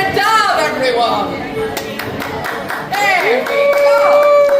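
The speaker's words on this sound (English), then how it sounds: "Nadal, round of applause for Nadal, everyone!" A crowd at a Universal Studios theme park show in the Wizarding World claps and cheers. The applause is mixed with a loud voice speaking over it and sharp bright tones.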